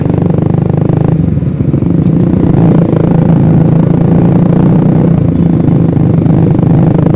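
A Honda CBR motorcycle pulls away on the road, its engine droning loud and close in a continuous mid-pitched roar with a slight rise in revs and wind buffeting throughout.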